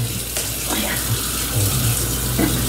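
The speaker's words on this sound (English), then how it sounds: "I added a little water to this pot so I could scrape some of those goodness off" Water runs steadily into a cooking pot with burnt-on bits stuck to the bottom, a continuous close splashing and gurgling that goes on for a few seconds with no talking.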